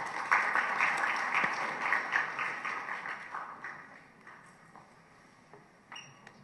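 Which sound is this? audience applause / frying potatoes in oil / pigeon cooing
audience applause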